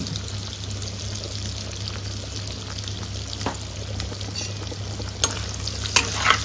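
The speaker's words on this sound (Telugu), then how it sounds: "అన్ని మసాలాలన్నీ వేసుకున్నాం కదా నీట్గా కలుపుకోవాలన్నమాట" Spiced mutton blood fry, seasoned with salt, turmeric, pepper powder and chili, being stirred in a pan: a steady broadband sizzle with a low hum beneath, plus occasional scraping stir strokes growing more frequent near the end.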